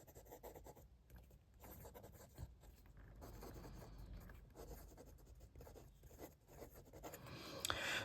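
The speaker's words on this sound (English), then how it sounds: "Let's just do a writing sample." Fountain pen with a wet, flexible nib scratching across paper, faint continuous rubbing strokes with short pauses between words, close up and quiet.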